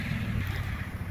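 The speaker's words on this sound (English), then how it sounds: "It's a little windy out" Wind gusts outdoors as a low, steady rumble buffeting the microphone, filling the brief moment with a constant rushing roar.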